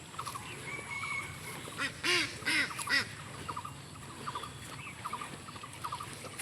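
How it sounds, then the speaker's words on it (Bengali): Ducks quack in a muddy rice paddy field, a scattered series of short nasal calls at moderate distance, with a cluster of louder quacks in the middle over faint background noise. "যেখানে এখানে হাঁসও আছে"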